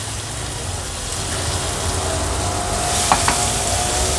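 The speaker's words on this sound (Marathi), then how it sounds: "ही ह्या तेलावर काढून घेऊया आणि थोडीशी परतून घ्यायची आहे" Ground masala chutney filling for stuffed pomfret sautéing in oil in a pan over a low flame, a steady soft sizzle with a couple of faint stirring clicks near the end, and no talking.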